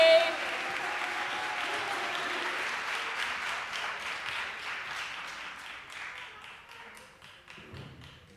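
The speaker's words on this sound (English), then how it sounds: "Put them both together, start clapping, start clapping, start clapping." An audience at a poetry broadcast claps steadily in a dense, sustained round that gradually thins and fades toward the end, with no voices over it.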